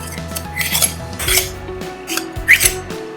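Metal spoons clink and scrape against each other while shaping egg-white quenelles for an egg cloud dish, a close, continuous run of bright metallic scraping and tapping with a few squeaky accents.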